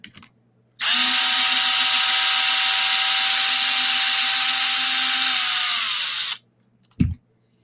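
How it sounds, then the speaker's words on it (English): An electric power tool undoes the rear chassis support bolts, which run all the way through with lock nuts, in a single loud, steady whir of about five seconds that ends with a brief final burst. "I'm going to undo the chassis support for the rear."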